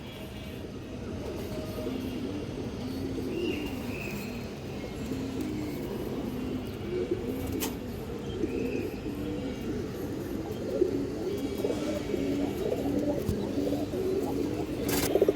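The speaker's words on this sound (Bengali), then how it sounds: "এই যে নটটা দেখেন নটটা ডাকতেছে" A male pigeon coos in repeated low, rolling phrases, moderately close, over a steady background rumble in a loft where pigeons are kept for sale.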